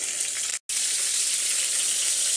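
Pork tenderloin sears in a frying pan, a steady bright sizzle with one brief silent gap near the start.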